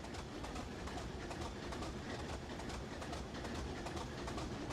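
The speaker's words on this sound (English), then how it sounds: "Where was the diesel we heard?" A diesel train passing in Train Simulator Classic on the Teesdale & Weardale line, a steady loud rumble with rhythmic clickety-clack of wheels over rail joints and faint bird calls in the background.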